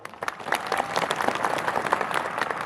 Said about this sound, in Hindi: हरेंद्र मार्को जी के भैया की ओर से आपको जोरदार तालियां भैया